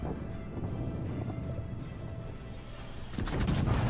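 Battleship gunfire in World of Warships Legends on console, with a distant rumbling background of naval combat that breaks into a heavy, loud salvo of booming cannon blasts near the end.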